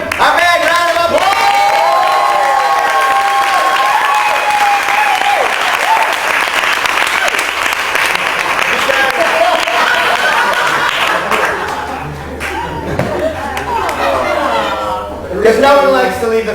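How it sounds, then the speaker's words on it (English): An audience at a Fringe festival magic show breaks into loud, sustained applause and clapping, with scattered cheers and laughter, up close, fading slightly before a brief final swell. "give him a big round of applause!"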